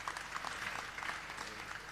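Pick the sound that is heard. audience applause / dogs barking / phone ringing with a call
audience applause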